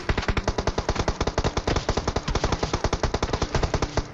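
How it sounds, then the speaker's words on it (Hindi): Rapid automatic gunfire from an enemy in the PUBG battle royale game at Pochinki, dense bursts of loud repeated shots in a steady fast rhythm, close and continuous throughout with no talking. "लेकिन उसका फायर आ रहा है मेरे पे"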